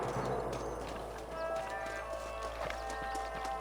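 Horses clip-clop as riders pull up and dismount in the video game Red Dead Redemption. The hoofbeats are close and continuous, set over a steady background bed with faint game ambience.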